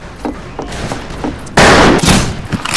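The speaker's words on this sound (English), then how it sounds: "Oh, Smith Carbine again." Smith Carbine gunfire in the Wild West shooter game Fistful of Frags, a loud burst of shots after quieter background clatter, with further shots trailing off near the end.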